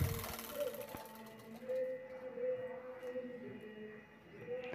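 A sewing machine stitches the side seam of a fabric tote bag, a quiet, steady mechanical hum with a faint rhythmic whir running continuously nearby, with no one speaking.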